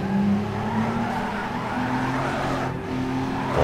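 Tires squeal and skid as cars slide around a drift stage in the video game Need for Speed: Underground 2, a steady screech layered over engine drone throughout.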